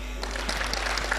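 Scattered hand claps from a crowd at an outdoor political rally in western Kenya, a short burst of uneven claps over a steady low hum, fairly distant and not loud.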